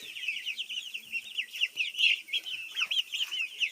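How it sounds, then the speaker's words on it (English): Young chickens about nine weeks old cluck and chirp continuously at close range, a dense stream of bird calls with no talking. "But let me show you the chicks."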